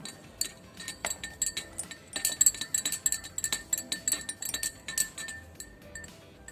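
A glass rod is stirred in lab glassware while a laboratory solution is mixed, making rapid, light, bright clinks that repeat close up in an uneven rhythm.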